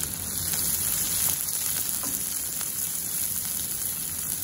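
Chopped onion or shallot frying in a pan, a steady soft sizzle and crackle that runs evenly throughout with no voices.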